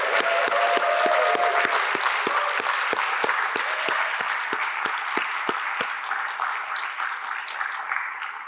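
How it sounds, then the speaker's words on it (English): A seated audience applauds the speakers at an annual talks event. Claps are crisp and rhythmic at first, with a few heavy individual claps standing out, then blend into a thinner, fading patter toward the end. "Give them another round of applause."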